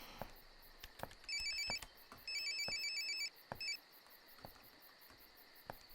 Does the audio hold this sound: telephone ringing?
yes